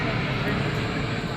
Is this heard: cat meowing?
no